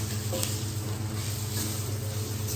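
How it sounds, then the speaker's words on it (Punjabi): Steady, dense sizzling of a Degi red chili tempering in hot oil, a continuous crackling hiss with a low hum underneath and no talking. "ਦੇਗੀ ਮਿਰਚ ਦਾ ਤੜਕਾ"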